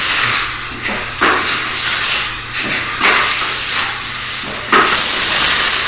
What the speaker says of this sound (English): I knife off the mud.